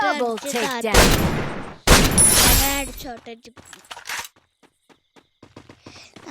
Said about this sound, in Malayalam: അവനെ ഞാൻ വെടിയിച്ചു.